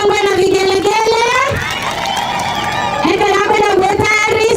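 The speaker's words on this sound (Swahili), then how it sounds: "Makofi kwa dada yetu, shangwe na vigelegele." A crowd at a 16 Days of Activism ward gathering cheers and ululates for a woman, a loud, close, wavering high trilling rising and falling over clapping and shouts.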